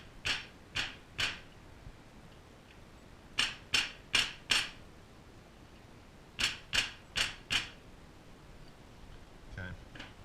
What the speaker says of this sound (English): I'm just going to give it a little tap with a soft hammer and a screwdriver